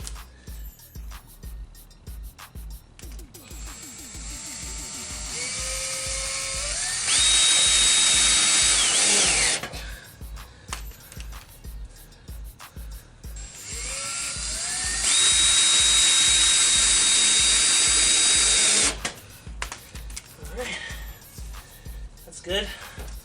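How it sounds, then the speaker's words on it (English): A power drill twice whines up to a high-pitched sustained spin, driving self-tapping screws into a Lexus LS460 plastic bumper, with clicks and handling noises between bursts and someone talking. "I'm just gonna put these self-tapper screws in."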